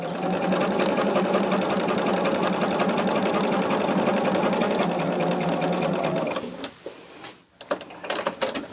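A sewing machine stitches the final block of a disappearing four-patch quilt top, running as a steady, loud, continuous mechanical whir for about six seconds. It then stops, leaving quieter handling noises.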